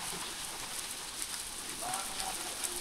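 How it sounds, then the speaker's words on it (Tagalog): Heavy rain from Typhoon Pepito pours onto a kubo hut under construction, a dense, continuous hiss of drops with no break, moderately loud and steady throughout. "Ayan, ang lakas na naman ng ulan."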